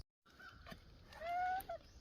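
Geese honking quietly in an outdoor yard while eating papaya, a couple of short nasal honks midway and near the end over faint background noise.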